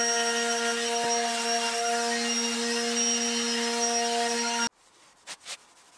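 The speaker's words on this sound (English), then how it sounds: "Some light sanding to clean up the sides and make the edges easier on the hands." A power sander runs steadily with a high whine over light sanding of the sides of an oak mirror frame, then cuts out, leaving a couple of soft knocks.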